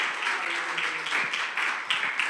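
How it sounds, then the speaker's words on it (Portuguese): A church congregation at a worship service applauds the preacher, giving brief, moderately distant clapping that rises and falls for a couple of seconds without talk. "Vamos dar um aplauso para ele"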